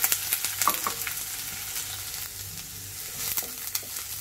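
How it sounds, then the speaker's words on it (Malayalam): Garlic, ginger, green chilies and curry leaves sauté in a pan for a green peas curry without coconut, with a steady close sizzle and a few sharp stirring taps and scrapes. "ഈ വെളുത്തുള്ളിയുടെ ഇഞ്ചിയുടെയൊക്കെ പച്ചമുളകിൻ്റെയൊക്കെ ഒരു പച്ചമണം മാറുന്ന വരെ നമുക്കിത് നന്നായിട്ട് വഴറ്റിയെടുക്കാം"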